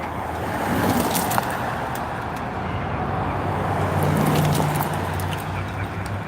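Cars pass on a reopened highway in Brighton after a chase and wreck, driving over scattered crash debris, producing a loud, steady roar of road traffic with a few sharp clatters.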